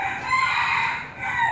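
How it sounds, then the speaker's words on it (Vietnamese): A rooster crows in an alley off Tran Duy Hung street in central Hanoi, a single long drawn-out call that is loud and fairly near and stands alone without talk. "Ở giữa thành phố nhưng mà cũng nghe tiếng gà gáy."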